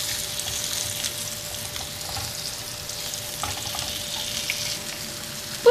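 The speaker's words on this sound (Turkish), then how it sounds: "Önlü arkalı patlıcanlarımızı kızartalım." Eggplant slices sizzle and crackle steadily as they fry in hot oil in a home kitchen, a constant close hiss with small pops, alone without talk.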